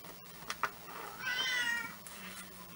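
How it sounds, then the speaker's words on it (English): A cat meows several times, faint and somewhat distant, over a quiet indoor background hum. "You can hear my little kitty in the background."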